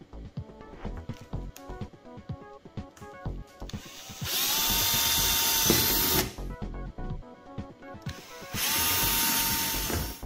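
A power drill with a 6.5 mm bit bores through a thin plastic spoiler on a 24-volt ride-on toy car, in bursts of high whirring with ratcheting mechanical clatter between them, close and fairly loud.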